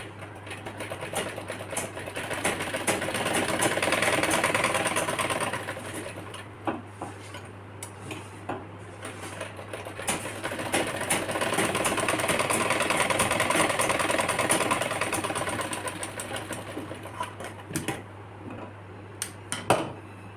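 A sewing machine stitches a fine seam along the shoulder of a shirt for a four to five year old, running in two long rhythmic bursts of rapid whirring clatter with brief pauses and handling clicks between, no speech.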